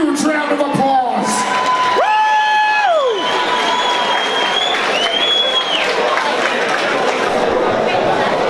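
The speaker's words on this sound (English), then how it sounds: "Ladies and gentlemen, give the two finalists a huge round of applause." Crowd at a UKFC 37 fight event cheering and applauding two finalists, a steady roar of clapping and shouts with whistles and whoops rising over it throughout.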